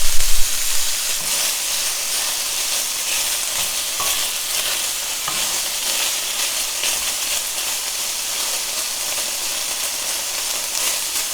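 Crumbled tofu fries and browns undisturbed in a hot pan for tofu bulgogi, giving a steady, dense sizzle and hiss that runs evenly throughout with no talking.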